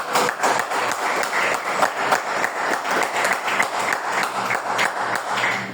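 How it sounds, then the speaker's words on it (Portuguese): A church congregation claps together in a steady, rhythmic unison beat, loud and close, keeping an even pulse for several seconds with no speech over it. "Mais uma vez, irmãos, aplaudam a palavra de Deus."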